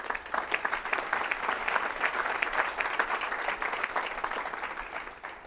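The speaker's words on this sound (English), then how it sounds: "I want you to give yourself a round of applause." A room of gym owners breaks into applause, dense and sustained clapping at moderate loudness that holds steady for several seconds before easing slightly at the end.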